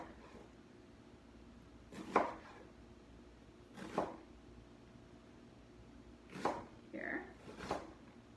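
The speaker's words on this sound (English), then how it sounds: "I'm gonna give this one another little chop here" A knife chops a peeled root into 1-inch pieces for fire cider, four or five sharp, isolated cuts spaced a couple of seconds apart against a quiet kitchen, with a brief spoken word between them.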